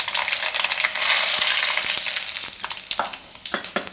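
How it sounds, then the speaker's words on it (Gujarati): Mustard seeds and cumin hit hot oil for a Gujarati rajma and potato curry, giving a loud, close, steady sizzle that settles into sharp popping crackles toward the end. "તો તેલ આપણું ગરમ થઈ ગયું, તો એમાં આપણે નાખીશું થોડીક રાઈ"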